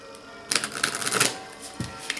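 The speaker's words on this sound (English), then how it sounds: "Yep, they shuffle nicely, quite smoothly." Oracle card deck riffled from hand to hand, a crisp run of papery flutters and clicks lasting over half a second, then a couple of shorter quiet shuffles, close up with no talk.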